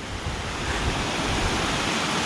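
A steady, broadband rush of the La Cuy river flowing in the Alps, continuous and fairly loud, with a hint of wind and no voices.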